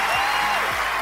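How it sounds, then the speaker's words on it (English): A brief round of applause, about a second long, played in a gaming podcast. The clapping is dense and even, with a crowd-like wash, and no one speaks over it. "you can have a round of applause"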